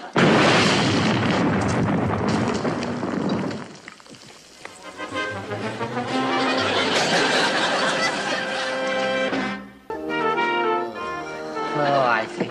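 A grenade goes off in a TV comedy scene, a big roaring blast with rumbling debris at the start, followed by a spell of voices and comic music.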